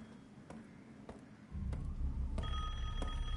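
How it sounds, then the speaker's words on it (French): A telephone rings in the survival horror game Resident Evil Village, faint repeated rings over low ambient game sound that swells louder halfway through. "Téléphone! Téléphone!"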